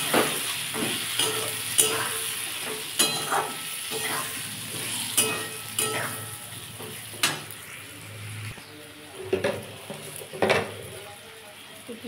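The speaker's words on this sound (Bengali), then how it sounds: "দিয়ে এটাকে ভালো করে কষবো" Cumin, chili powder and turmeric cooking with tilapia in a pan for a Bengali fish curry with potato and eggplant, a steady close sizzle broken by repeated scraping stirs and clinks of a spoon against the pan, with no talking.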